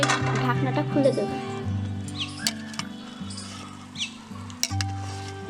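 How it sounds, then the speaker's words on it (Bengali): A spoon stirs village-style biryani of rice and potatoes in a cooking pot, with soft scraping and light sizzling under a steady voice and background music. "ভালো করে নেড়ে দেব।"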